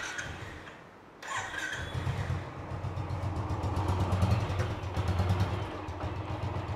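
A motorcycle engine cranks and fires after a short quiet pause, then settles into a steady close idle with a fast, even ticking pulse running through it. No one speaks.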